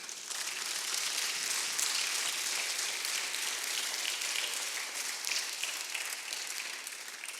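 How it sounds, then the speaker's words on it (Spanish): A church congregation applauds together, a dense, sustained wash of clapping from many hands that fills the room steadily and tapers slightly toward the end, with no voices over it. "Denle un aplauso al Señor, hermano."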